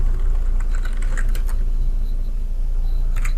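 Computer keyboard keys are tapped at an irregular pace, light clicks over a loud, steady low background hum with no speech.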